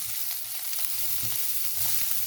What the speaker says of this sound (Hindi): सब चीज़ें इकट्ठी भून जाएंगी